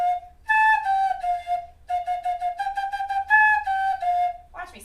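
A flute is played by blowing across the tone hole, giving clear, breathy sustained tones in short phrases, near and fairly loud.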